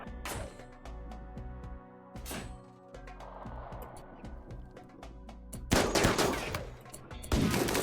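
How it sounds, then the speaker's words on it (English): Bursts of gunfire from a Lancer mech in the video game RimWorld: rapid shots in clusters with sharp cracks, ending in louder overlapping volleys and impacts, under a low droning game background. "the Lancer's just shooting something random"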